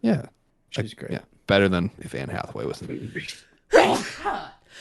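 A single sharp sneeze bursts out near the end of a casual conversation, loud and close, with people talking before it and after it.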